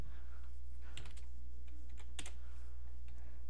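Brief clusters of key presses on a computer keyboard while entering commands on a Windows XP machine, a few soft clicks over a steady low hum, fairly quiet and close.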